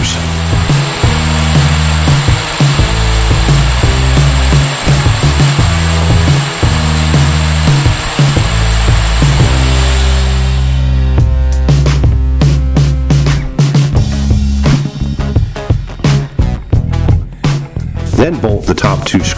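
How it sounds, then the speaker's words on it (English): A power drill bores pilot holes for lag screws while an autotiller is installed on a boat, a loud continuous whirring drone that stops partway, followed by sharp knocks and clatter. "I gently pre-drill the pilot holes for the lag screws."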